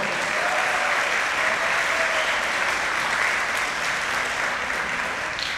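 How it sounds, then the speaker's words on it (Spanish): Theater audience at a tribute rock band concert applauds steadily, a loud, even wall of clapping that holds without break for several seconds. "aplauso para el staff del teatro."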